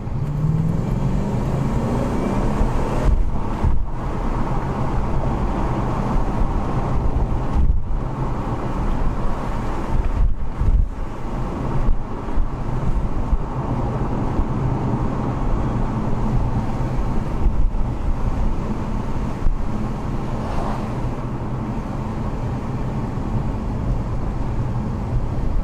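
Wind rushes through the open windows of a driving 2003 Audi S8 with a six-speed manual swap, a steady loud roar with road and traffic rumble underneath, no talking.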